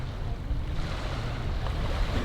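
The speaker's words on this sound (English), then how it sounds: "there's a little taxi boat that takes you from this side of the river to the other side" A small river taxi boat crosses the water on a breezy day, its motor and wash blending into a steady, loud rush of water and wind noise on the microphone, with no talking.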